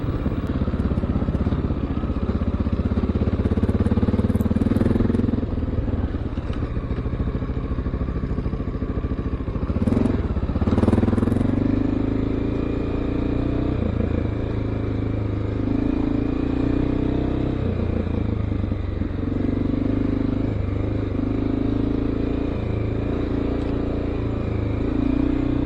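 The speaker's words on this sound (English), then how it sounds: "can finally get her opened up a little more anyway" A Honda XR650L motorcycle rides a wet trail, its engine droning steadily close by for the whole stretch, with the pitch rising and falling as the rider opens the throttle, plus occasional clatter and splashes.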